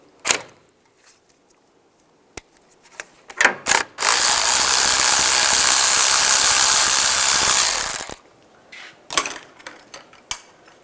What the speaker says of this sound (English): Use a 10mm socket. Take this bolt out.